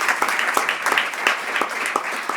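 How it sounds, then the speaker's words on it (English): Brief burst of applause from a crowd at a college athletics banquet, many hands clapping steadily with sharp individual claps audible in the mix. "So give yourselves a round of applause for that."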